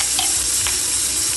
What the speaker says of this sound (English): we added the chopped onions into it and we'll saute it for 2 minutes